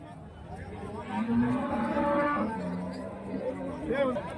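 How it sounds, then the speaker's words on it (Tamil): Holstein Friesian cow lowing at a busy cattle market, drawn-out moos rising over steady crowd chatter and people talking nearby. "இங்க வந்து பாத்தீங்கன்னா ஒரு ஹெச்எப் மாடு வந்து இருக்கு பாருங்க"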